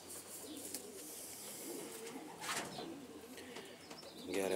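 A male racing pigeon, a long-distance marathon flyer with white claws, coos softly at a distance against steady background hiss, with no talking.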